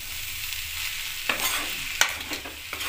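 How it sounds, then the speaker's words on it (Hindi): A spoon stirs bean curry in a sizzling pan, with soft frying hiss beneath a few distinct scraping strokes and clanks against the pan. "और इसको एक बार फिर मिक्स कर लेती हूँ"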